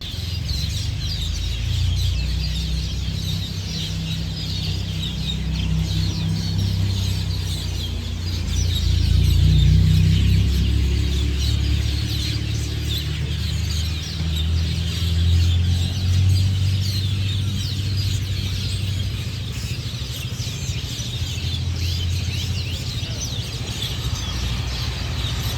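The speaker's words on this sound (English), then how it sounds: "it was so loud because of all the birds there" Dense, loud birdsong and chattering calls fill an outdoor spot near a hotel in Indonesia, a constant noisy chorus over a low background rumble with no talking.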